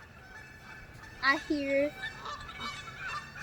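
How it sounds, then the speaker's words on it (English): Outdoors, a few geese give a short burst of honks at moderate distance, while people talk quietly around them. "Those are the geese."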